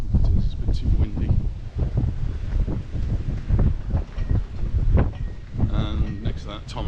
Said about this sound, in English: It's a bit too windy.